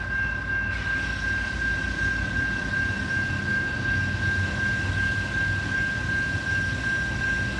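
A Norfolk Southern freight train with several locomotives passes a railroad crossing with gates down, a loud steady rumble of rolling cars and a sustained crossing-bell tone, with no talk.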